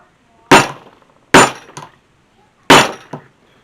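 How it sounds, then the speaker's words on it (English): An arbor press stamps a half-inch number into leather with three sharp, loud metallic strikes, each followed by a faint tap, alone in a quiet room. "So I'm just going to do a simple stamp."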